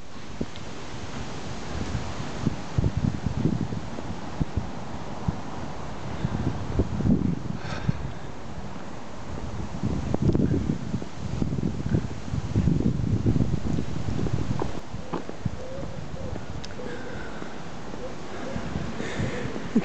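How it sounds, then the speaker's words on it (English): Strong wind blows at a seaside walk on the Dorset coast at Southbourne, a steady rushing buffeting on the microphone with gusts that swell and ease throughout. "It is extremely windy and blowy today."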